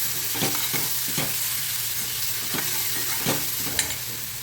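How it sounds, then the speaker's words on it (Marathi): A paste of coconut, ginger, garlic and coriander sautés in hot oil, a continuous sizzle broken by periodic scraping strokes of a spoon stirring the pan, close and steady with no talking. "तर हेही आपण व्यवस्थित परतून घेऊया"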